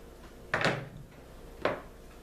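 A Bulgarian 40-round AK-47 magazine is rocked into the rifle's magazine well and locks with a sharp metallic clack, followed about a second later by a second, shorter click. Both sounds are close against a quiet background.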